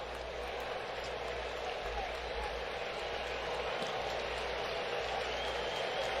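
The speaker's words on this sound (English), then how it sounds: "And a big crowd in Atlanta cheering him on." A big baseball crowd in Atlanta cheering at a Mets–Braves game, a steady broad roar of applause and voices that continues evenly throughout.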